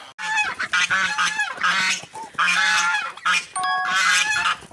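Domestic geese honk loudly and repeatedly up close, a flock calling in overlapping bursts of harsh, nasal cries with brief gaps between.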